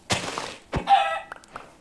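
A chicken in Minecraft clucks in short game-sound bursts, two brief squawks with a dull thunk between, crisp and close, no voices.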